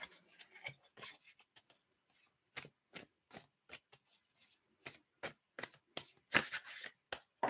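Tarot cards shuffled and drawn in a live reading, close papery riffles and slides in irregular bursts separated by near-silent gaps, with no talk.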